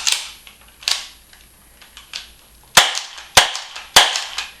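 A Crosman Stinger P311 spring airsoft pistol fires about six sharp, close snapping shots at irregular intervals, with three quicker shots bunched near the end and quiet gaps between them.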